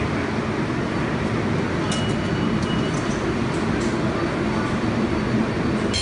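Steady, loud rumble of a New York subway train in motion, heard from inside the car, with continuous low roar and faint high squeals throughout and no talk.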